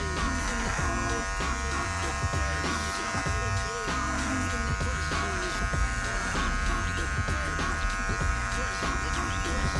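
Electric hair clippers fitted with a 1.5 guard buzz steadily and close up while bulk hair is cut away during a bald fade, an unbroken droning hum.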